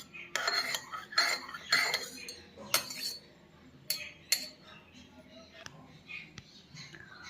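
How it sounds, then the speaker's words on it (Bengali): A metal spoon clinks and scrapes against a small kitchen vessel as ghee is added, giving several bright, close clinks followed by softer taps and faint background noise. "এক চামচ ঘি দিয়ে দিলাম।"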